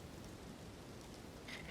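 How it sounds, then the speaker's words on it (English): Steady rain patters and splatters on the ground in the fantasy game Elden Ring, a soft continuous wash with faint scattered drips, fairly quiet and unbroken. "splatters of rain touching the ground"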